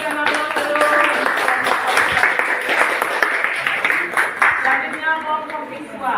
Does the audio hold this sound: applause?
yes